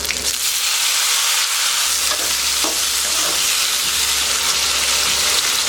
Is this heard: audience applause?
no